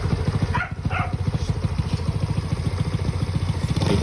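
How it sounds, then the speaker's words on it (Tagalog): A motorcycle engine fitted with a special camshaft runs at a steady idle, giving a close, rhythmic, chugging pulse for the whole stretch, with faint voices briefly in the background. "Paparinig ko lang sa inyo yung makina."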